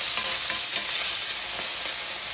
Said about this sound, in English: This here is vegetable oil, but you can use like olive oil or whatever you prefer. And this needs to be a little stirred.